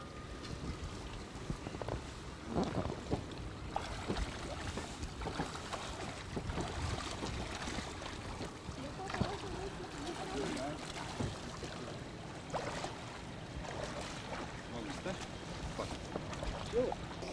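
A boat pushes through floodwater in a flooded residential area, with steady splashing and churning water over wind noise. Voices talk throughout.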